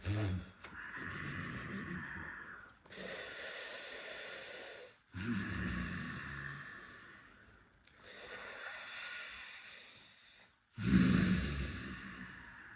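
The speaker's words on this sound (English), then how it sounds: "Now breathe in through your lips. Out through your nostrils." A person breathes in slowly through the lips and out through the nostrils in a yoga pranayama exercise, close and breathy, with long airy inhales and snorting exhales alternating in a steady slow cycle.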